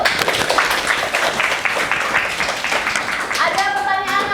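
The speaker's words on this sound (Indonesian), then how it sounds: "tepuk tangan dulu" Classroom students clap together after a classmate presents a math answer, a close, lively patter of hands that carries on briefly before a voice comes in near the end.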